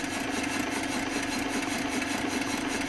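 A small stationary engine with a 13 pound flywheel, about 2.2 horsepower and 22 inches high, runs steadily at close range with an even, continuous chugging hum and no talk.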